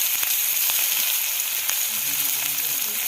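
Food sizzles and fries steadily in a pan, a dense continuous crackle with a few sharper pops, close and fairly loud, with faint low voices in the background toward the end.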